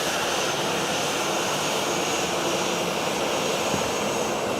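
A Jetstar jet airliner at Fukuoka Airport gives off a steady, dense engine roar with a broad hiss, continuous and even in level, heard from some distance.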